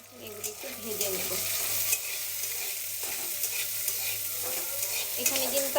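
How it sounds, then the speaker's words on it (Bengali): Onions with a light sprinkle of salt fry in a pan, giving a steady close sizzle with occasional stirring scrapes and a low hum underneath, no voices. "পেঁয়াজটা দিয়ে দিচ্ছি। এখানে একটু হালকা করে লবণ দিয়ে দিচ্ছি। এগুলো একটু ভেজে নেব।"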